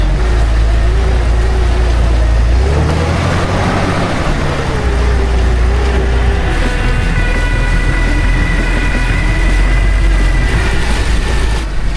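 Engine of a cheap $3,000 Jeep while driving, a loud steady low rumble with shifting tone as it moves along, close and continuous throughout.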